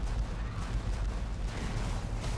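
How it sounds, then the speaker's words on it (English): Cannons firing in the video game Dungeon Defenders 2 during a Chaos 7 Molten Citadel defense, a dense, loud barrage of booming blasts pounding almost continuously with no pause. "Let's see exactly what these cannons can do here."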